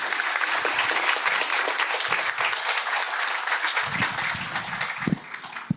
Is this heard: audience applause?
yes